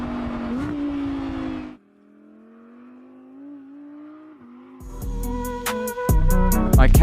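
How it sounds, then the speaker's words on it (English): An Audi R8 GT RWD supercar exhaust roars loudly, drops to a lower steady rumble, then surges back with sharp revving bursts and crackles near the end, close and powerful. "An extraordinary exhaust note."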